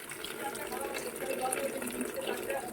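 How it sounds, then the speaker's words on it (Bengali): Water pours forcefully from a pipe in a steady, close, rushing stream, heard continuously throughout with speech mixed in over it. "জল মাটিতে চলে যাচ্ছে না গো ভালো জোরে পড়ছে আমার জল"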